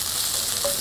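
Green chillies and garlic frying in lightly melted fat, a steady soft sizzle with broadband crackle running through the short moment, no voices.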